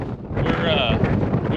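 Wind blows across an open hay field where raked hay waits to be baled, buffeting the microphone with a loud, rough, low rumble throughout the short stretch.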